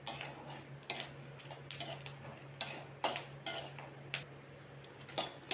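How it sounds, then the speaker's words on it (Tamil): Dried red chillies and garlic roast in a pan with faint, irregular metallic clinks and scrapes of a spoon against the pan, quiet and close, over a low steady hum. "இதை நல்லா வறுத்து எடுத்துக்கலாம்"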